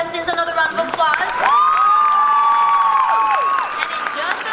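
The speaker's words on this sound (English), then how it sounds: "Let's give all of our contestants another round of applause." A beauty pageant audience claps and cheers, with a long, loud, rising whistle riding over the applause through the middle.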